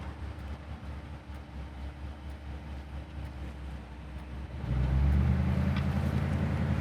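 A restored 1959 Ford Skyliner retractable hardtop runs on the road, its engine and road rumble a low steady drone from inside the car that swells noticeably louder partway through.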